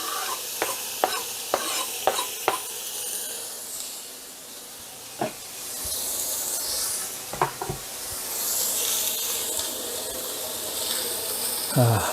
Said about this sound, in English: we're going to take our steak and we're going to brown it on both sides. Ooh, hear that sizzle.